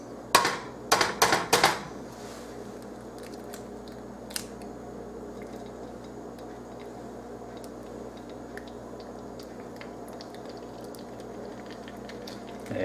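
Eggs cracked into a hot pan inside a skull-shaped egg mold, a few sharp cracking and clattering taps at the start, then a quiet steady frying sizzle with occasional small ticks.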